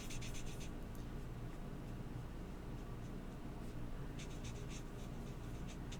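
Paper is rubbed to burnish a stamped Christmas mouse image, giving soft scratchy strokes in quick bursts at the start and end over a steady low background hum, close and quiet.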